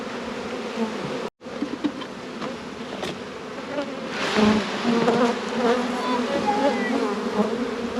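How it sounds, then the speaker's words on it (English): Steady droning buzz of many honeybees at a hive, close and continuous throughout, with a brief dropout early on. "What are they? Bees. They're bees."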